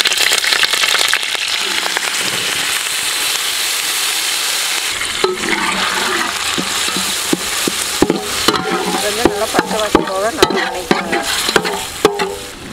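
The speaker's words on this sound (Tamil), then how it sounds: "இப்போ கறிவேப்பிலை சேர்த்துக்கலாங்க. ஆட்டி வச்சுக்கிற மசாலாங்க." Cumin, curry leaves and ground masala fry in hot oil for a green chilli chicken, with a steady loud sizzle, then clacks of a spoon stirring the pan as the crackling continues.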